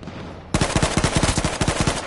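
Rapid gunfire in the H1Z1 shooter game, a sudden loud burst of quick repeated shots in an uneven rhythm that continues steadily for well over a second with no talk.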